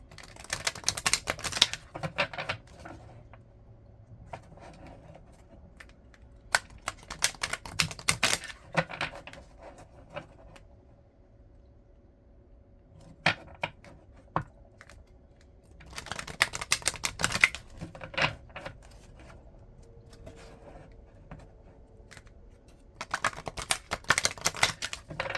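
Tarot cards being shuffled by hand in a quiet room, crisp papery riffles and flutters arriving in several separate bursts with near silence between them, close and fairly soft.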